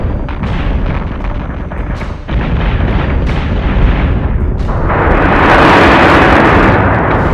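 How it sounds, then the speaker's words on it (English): Warship batteries fire in the space combat video game Battlestar Galactica: Deadlock, producing a loud, continuous barrage of heavy booms and explosions that builds into a dense, roaring blast near the end. "Firing on target. Set secondary battery. Full attack mode. Fire at will."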